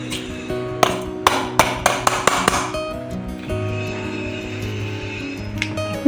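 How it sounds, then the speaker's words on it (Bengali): Mustard seeds, salt and chilli are pounded on a grinding stone. A run of sharp, ringing stone knocks in quick succession gives way to quieter rubbing and scraping, close by. "নুন আর এই সর্ষেটা বেটে নেব।"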